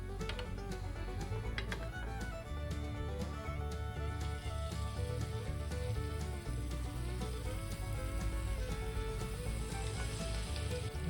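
Jalebi batter sizzling steadily in hot oil, a dense continuous frying crackle with scattered pops, close and fairly loud, no voices.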